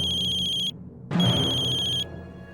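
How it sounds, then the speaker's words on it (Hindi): Mobile phone ringtone for an incoming call: a bright, steady electronic tone rings close and clear, cuts out briefly, then rings again over a low room hum. "अरोड़ा साहब का फोन?"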